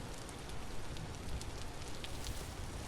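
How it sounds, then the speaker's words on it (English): Steady rain falls in the video game Vintage Story, a constant, even hiss of drops with no break and no voices, moderately loud throughout. "I just pray that it stops raining over here"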